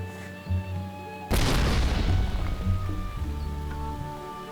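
A single loud explosion in a video game booms suddenly, then rolls into a rumbling decay that fades over a few seconds against steady tonal background sound.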